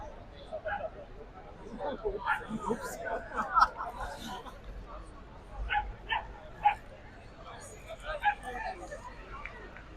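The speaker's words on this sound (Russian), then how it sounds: "Какие интересные собачки." Small dogs barking and yipping in a London park, scattered sharp yaps and whimpers at middle distance, mixed with people chattering nearby.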